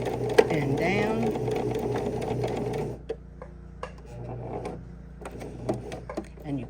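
A domestic sewing machine stitches a purse in a fast continuous whir, then stops, followed by softer mechanical clicks and brief short runs as the fabric is turned.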